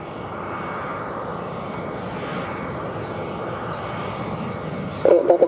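Continuous roar of a JetBlue airliner on landing approach at Montego Bay airport, a steady broadband engine rumble that holds loudly throughout, then a few sharp louder bumps right at the end.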